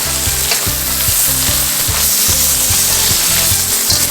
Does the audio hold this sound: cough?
no